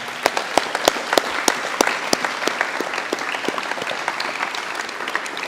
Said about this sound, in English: Could we please get a round of applause for the 2024 management team?